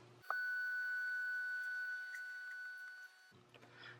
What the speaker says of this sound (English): I'm just going to run it back through the laminator